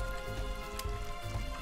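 Steady pattering rain in the cooking game Cook Serve Delicious 2, an even wash of drops on a surface with a faint tonal hum beneath, no speech.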